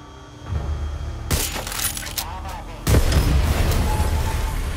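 Gunshots and an explosive crash as a blockade is shot and destroyed in Far Cry 6, a loud impact followed by a rumbling blast and sustained debris noise.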